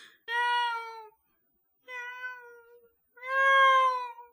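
A cat meows three times in clear, drawn-out calls separated by short silences, the last one loudest, close by and with no talk.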